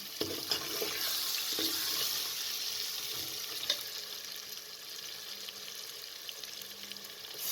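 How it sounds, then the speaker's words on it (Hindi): Spices and tomatoes frying in a pan for dhaba-style moong dal, a steady soft sizzle with occasional stirring clicks, fairly quiet and alone without voices. "अब इसके अंदर टमाटरों को शामिल कर दें"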